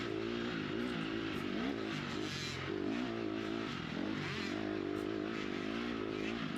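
A dirt bike engine revs hard during a GNCC off-road race at Camp Coker, a loud close buzzing drone that climbs and drops in repeated throttle surges, with faint clatter from the rough track beneath.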